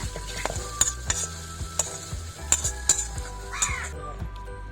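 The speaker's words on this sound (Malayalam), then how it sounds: "ഇനി നമ്മളിത് ചട്ടിയിലിട്ടിട്ട് അരച്ചതും പുളിയൊക്കെ കലക്കി ഒപ്പം അടുപ്പിൽ വയ്ക്കാം" Tomato masala sizzles in a clay pot on the stove for a Kerala-style turkey berry curry, with repeated scraping and stirring knocks and crows cawing in the background.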